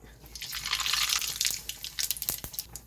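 Mustard seeds spluttering in hot groundnut oil while starting a cumin curry, giving a crackling sizzle that swells and then breaks into sharp, scattered pops close by, with no talking.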